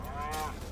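A cow gives a short, low moo on snowy, icy ground, a single brief lowing call heard at moderate distance with no talking.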